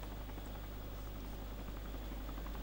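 A helicopter flies in the survival game DayZ, its rotor a steady, distant droning hum with broadband whoosh and no voices over it.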